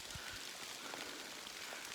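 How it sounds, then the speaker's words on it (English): Pea-sized hail falling outdoors on a nature walk near a mica mine, a steady dense patter of small ice pellets with a few sharper impacts nearby, continuous and fairly soft throughout. "It's starting to hail, little pea-sized pieces of"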